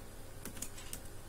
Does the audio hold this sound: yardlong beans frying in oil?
no